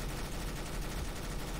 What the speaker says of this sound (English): This is a sufficiently big gun.